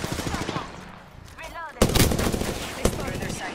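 Rapid gunfire from an Apex Legends match cracks out in sharp bursts, a loud volley around the middle and another shot later, mixed with faint in-game effects and a brief muffled voice.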